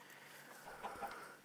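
A chicken in a video game gives a couple of faint short clucks over quiet background noise.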